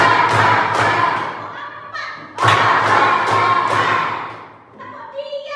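A classroom of students claps in rhythm on a one-two-three count, two loud bursts of group clapping with shouting voices, a pause between them, then quieter chatter at the end.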